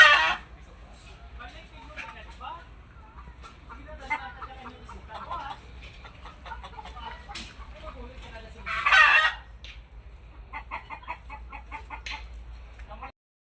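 Darag chickens on a family farm cluck and call in short bursts, with a louder crow-like cry near the middle, under a faint steady background hum.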